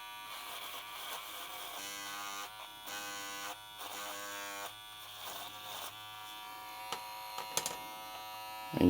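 Kemei KM-1386 hair clipper running on low speed, a steady close electric buzz with a slight wavering flutter over several seconds, no talking.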